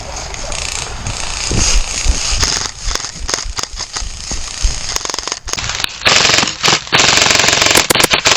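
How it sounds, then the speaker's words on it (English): An airsoft light machine gun fires during an airsoft game, rattling out long, loud, rapid bursts up close, with a few short breaks between volleys. "First time playing with an LMG"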